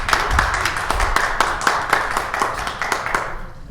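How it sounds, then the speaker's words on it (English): A small improv show audience claps steadily for a few seconds, rhythmic and close, without cheering or talk. "Everyone give a round of applause to Devin"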